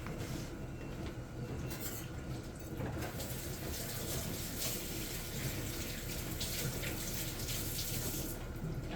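Water runs and splashes in a kitchen sink full of dishwater as a whisk goes in, a steady faint rushing with small clatters, no talk.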